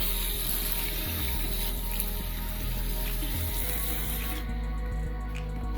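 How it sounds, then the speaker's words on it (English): Tap water runs steadily during rinsing, making a continuous hiss and splash that stays even throughout, with low humming underneath. "let the water run a little"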